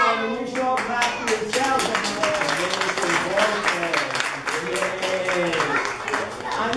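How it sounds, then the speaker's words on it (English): Children clapping at a graduation day event, a dense run of overlapping hand claps that keeps going steadily, with children's voices calling and chattering loudly throughout. "You should all clap for"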